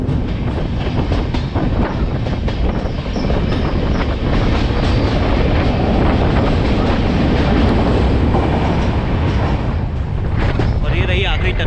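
A Humsafar Express rolls through Assam near a tunnel, its loud, continuous rumble and rhythmic clatter of wheels on rails filling the scene up close, with voices faintly mixed in.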